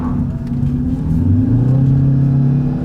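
A 2017 Ford Fusion hybrid with a 2-liter engine, out of eco mode, accelerates hard. Its engine note rises and swells steadily, close and loud, with a constant road rumble underneath.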